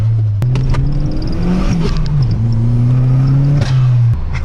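A modified hot hatch engine hums steadily and loudly from inside the cabin while cruising on a street, with a low droning tone that rises and shifts slightly as the car accelerates.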